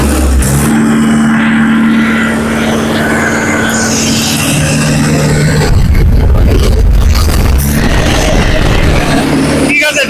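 A Mahindra tractor engine runs loud and close at a tractor showroom with a low, steady drone that swells partway through. Voices talk over it.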